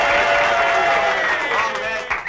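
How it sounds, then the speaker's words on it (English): Loud, dense audience applause from a live comedy recording, a steady wash of clapping and crowd noise that fills the whole clip, with possible voices mixed in. "When I say something like that, you don't have to applaud that loud."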